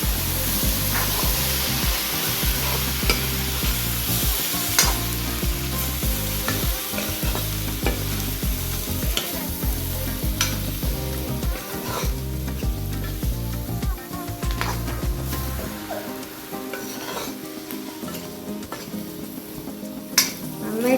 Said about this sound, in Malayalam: ഇനി നമുക്ക് നന്നായിട്ടൊന്ന് ഇളക്കി കൊടുക്കാം.